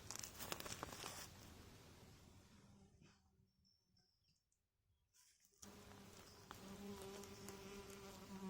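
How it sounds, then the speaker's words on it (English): Honeybees buzz close by amid crinkling rustles, the hum fading to near quiet midway before a steady drone returns. "I think they're just honeybees, not native bees."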